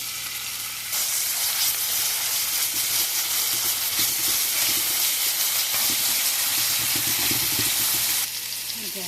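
Garlic sizzles and fries in hot oil with onion for a desi-style fish curry, a loud steady crackling hiss that starts abruptly and holds for several seconds before dropping away near the end.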